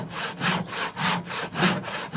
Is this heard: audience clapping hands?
no